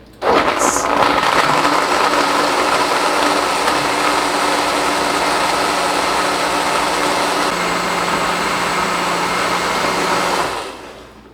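A blender whirs steadily for about ten seconds, blending frozen peeled blueberries with roughly a cup of apple juice under the lid into a smoothie, loud and continuous, then cuts off abruptly near the end.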